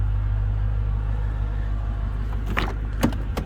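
Mercedes E55 engine idling steadily, a low continuous rumble with harmonic hum, joined near the end by a few brief clicks and rattles close by.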